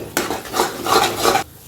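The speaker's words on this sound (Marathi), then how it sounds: "ह्याला सारखं हलवतच आपल्याला परतून घ्यायचं आहे" Fenugreek masala being stirred and sautéed in a pan, a spoon scraping and clattering against the metal in short repeated strokes over a light sizzle, close and fairly loud.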